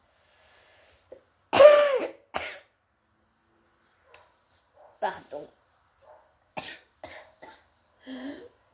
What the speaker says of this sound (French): désolée à l'avance si je tousse